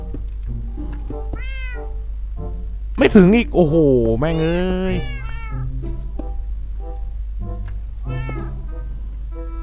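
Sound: cat meowing in the video game Minecraft

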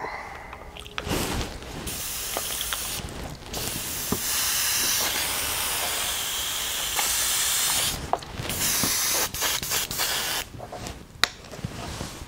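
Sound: airbrush spraying orange paint

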